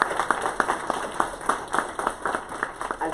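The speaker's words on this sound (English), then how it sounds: "let's give them a round of applause" A small audience at a Black History Month library event claps in a light, scattered round of applause, with separate hand claps audible throughout.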